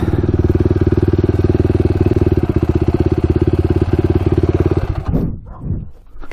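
A Yamaha YFZ450 quad engine idles up close with a loud, rapid, steady thumping pulse, then revs and fades near the end.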